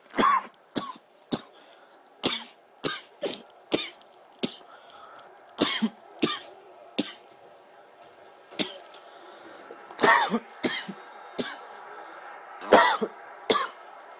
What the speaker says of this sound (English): So excuse the coughing, please.